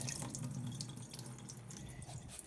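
Rinse water pours off rice in a pot, a faint continuous trickle and splash with small drips, heard briefly and alone.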